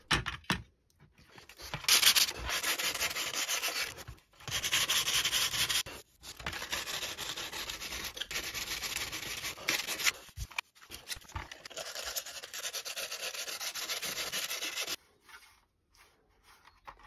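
Filler patch on a cracked Nintendo 64 plastic shell being sanded by hand, long raspy back-and-forth rubbing strokes in bursts of several seconds separated by short pauses, close and loud.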